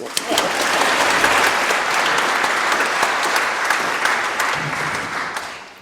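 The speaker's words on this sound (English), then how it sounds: "got to keep him sweet with a round of applause" Sustained audience applause for a percussionist joining a folk music set, dense steady clapping that fills the whole stretch and tapers slightly at the end, with no voices over it.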